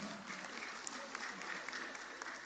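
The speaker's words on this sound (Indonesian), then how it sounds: "Tepuk tangan." Audience applause at a university graduation ceremony: steady, dense clapping from a large crowd that fills the whole stretch at moderate level, without speech over it.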